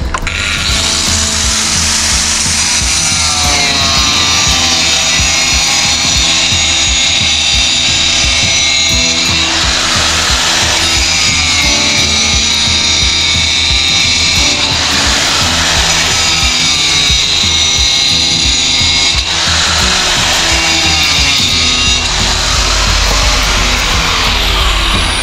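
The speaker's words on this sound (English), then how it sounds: "Cut that through." A power saw grinds steadily and loudly through an Aco drainage channel, its harsh whine swelling and easing in a few long passes with no talking.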